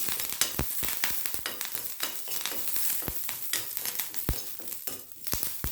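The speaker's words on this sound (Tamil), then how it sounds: "அந்த எண்ணெயிலேயே இந்த கருவேப்பிலையை போட்டுட்டேன்" Curry leaves crackle and spit in hot oil already fried with asafoetida, a dense sizzle full of sharp pops and snaps, close and steady, with no talking.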